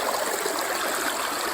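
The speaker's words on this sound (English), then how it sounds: "right now the water's going the other way around the rock" Creek water flows around a giant rock, a steady close rushing and trickling stream sound that fills the whole moment without any voices.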